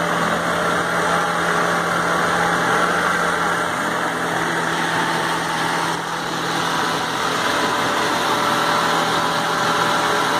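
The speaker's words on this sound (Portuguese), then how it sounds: "Opa, ligou a ventoinha." A 1998 Honda Civic EX idles steadily with its radiator fan running, a loud, constant engine hum and whir with no break.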